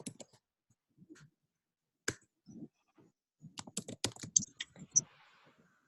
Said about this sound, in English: I'm typing them in the chat group too